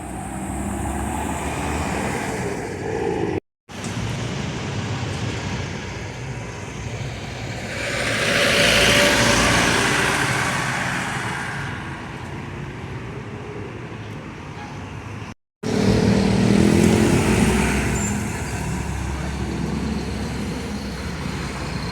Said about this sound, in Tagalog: Yan, traffic siya.